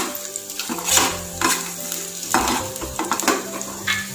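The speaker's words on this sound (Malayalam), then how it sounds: "രണ്ടാമത്തെ കാര്യം ഈ കടുക് വറക്കലിലാണ്." Mustard seeds sizzling and popping in hot oil while tempering for spinach sambar, a steady frying hiss with light stirring clinks and crackles throughout, close and fairly loud.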